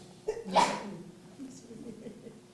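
A single sharp sneeze bursts out near the microphone, followed by quieter murmuring and room noise.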